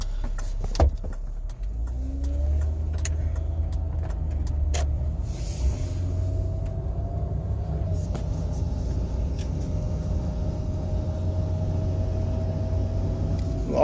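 Large truck backing in near a loading area, a low continuous rumble and rattling engine drone heard from nearby, with a faint rising whine and a few clicks on top.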